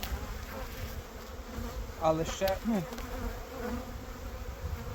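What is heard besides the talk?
honey bees buzzing around a hive frame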